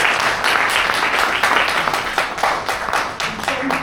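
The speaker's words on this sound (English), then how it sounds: "So let's round of applause for" Round of applause from an audience at a live panel event, steady and fairly loud clapping that fills the moment, with a voice briefly audible near the end.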